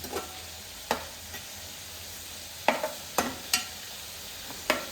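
Murrel fish frying in a pan, a steady low sizzle broken by several sharp spatula scrapes and taps at irregular intervals, close and fairly quiet, with no talking.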